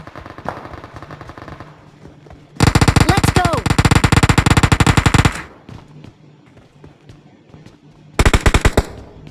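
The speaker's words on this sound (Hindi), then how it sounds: "अब पीछे की तरफ गोली चल रही है, तो वहाँ जाके भी देखना पड़ेगा।" Rapid bursts of automatic gunfire in the mobile game PUBG Mobile, a long sustained volley then a shorter one, loud and close, with a brief spoken phrase near the start.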